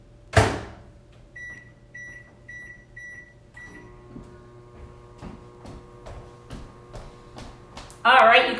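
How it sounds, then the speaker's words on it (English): Appliance sounds near a microwave oven as a stir fry with Miracle Noodles goes in: a sharp door clunk, a few short electronic beeps, then a steady low hum with faint clicks and a louder rustle at the end. "Let's go put this in the microwave."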